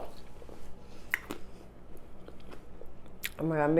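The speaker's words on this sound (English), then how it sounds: "So let me know if you can hear the crunch," Cranberry pistachio biscotti are bitten and chewed close to the mic, giving a few dry crunches followed by softer chewing, and a voice begins humming or speaking near the end.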